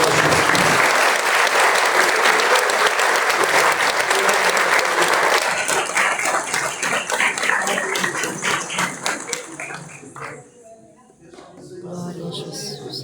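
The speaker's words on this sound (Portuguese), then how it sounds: "Uma salva de palmas." A church congregation at a thanksgiving service bursts into loud, sustained clapping that fills the room, then thins toward the end as a few voices come through underneath.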